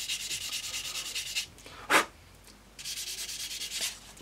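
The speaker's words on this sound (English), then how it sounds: "we're going to sand down the areas we know where there's problems" A sanding sponge rubs on a 1/48 scale Airfix Hawker Sea Hurricane Mk.Ib plastic model aircraft in steady, quiet back-and-forth scratchy strokes, pausing briefly near the middle before resuming.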